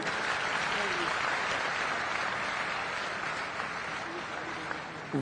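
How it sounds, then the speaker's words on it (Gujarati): An audience at a public event in Surat applauds steadily, a dense wash of clapping filling the whole stretch before tapering slightly at the end. "પૂરા તાળીઓથી આપણે એમને વધાવીએ"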